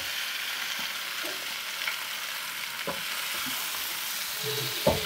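Small fish coated in salt, chilli and ginger-garlic masala fry in a hot pan, a steady soft sizzle with occasional light scrapes and taps as the pieces are turned, with no talking.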